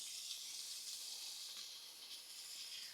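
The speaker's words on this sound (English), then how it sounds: "I'm going to start sauteing those 4 celery sticks and a couple of small onions" Celery sticks and small red onions sauté in a pan, giving a soft, steady sizzle and hiss that holds constant throughout, faint and alone with no talk.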